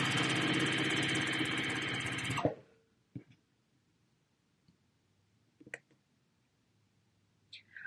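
A sewing machine stitches quilting fabric squares for a quilt block, running as a loud, steady mechanical whir for about two and a half seconds, then stopping and leaving a few faint clicks and handling noises in near silence.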